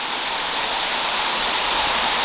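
Third Vault Falls in Fundy National Park, running low during a drought: a steady, loud, broadband rush of falling water, close and unbroken, with no voices.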